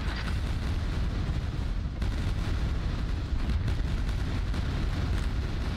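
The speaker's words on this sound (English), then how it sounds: "There's lots of explosions." Dense, continuous rumble of explosions and weapon fire from the Quake II shooter, loud and sustained throughout with brief dips, no talking over it.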